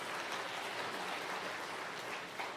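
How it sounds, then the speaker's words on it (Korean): A church congregation applauds a visitor at a 60th anniversary service, giving a steady, even patter of many hands clapping at once, moderately distant and sustained throughout. "김명희님 한번 일어서시면 우리 박수로 환영하겠습니다."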